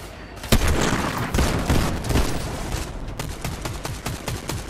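Rapid bursts of gunfire from a ranked video game match crackle densely and loudly, with a sharp shot near the start and a fast string of repeated shots toward the end.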